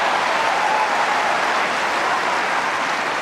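A large tennis crowd roars and applauds continuously at a match, a dense, loud, steady wash of cheering and clapping with no break.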